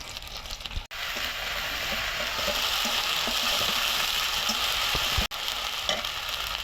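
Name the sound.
onion, ginger and garlic paste frying in a pan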